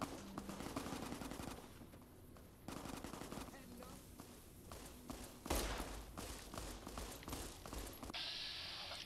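Caesar's Legion fighters trade gunfire with a merchant in Fallout: New Vegas, rapid bursts of shots repeating over several seconds, with a louder impact near the middle and some footsteps.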